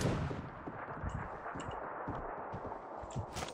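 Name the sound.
gunfire in the video game Knives Out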